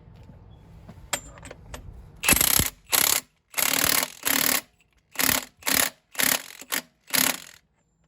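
An impact wrench on level 3 fires eight loud rattling bursts, each about half a second long, as it tightens the crank bolt on an LQ4 engine during a 2001 Camaro SS build, with faint clicks and handling noise beforehand.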